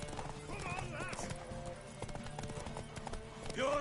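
A horse in Witcher 3 gallops with rapid clip-clop hoofbeats and gives a short whinny near the end, mixed with game music and voices talking over the action.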